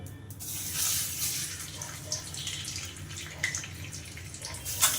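Two halves of a catla fish head frying in hot oil give a steady, dense hiss and crackle throughout, close and moderately loud, with small pops scattered through it.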